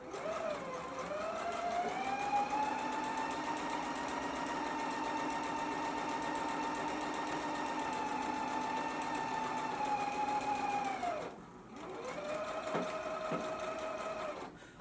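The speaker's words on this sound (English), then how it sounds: "Now we can stitch it at a 5/8 of an inch seam allowance." A sewing machine stitches a dress seam at a 5/8 inch seam allowance, running at a steady, even whir for about ten seconds, stopping briefly, then starting up again, close and clear.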